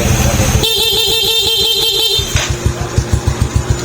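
A Suzuki Smash motorcycle horn on a fullwave relay blares in one long, loud, steady tone over the bike's idling engine, then stops and the engine keeps pulsing alone.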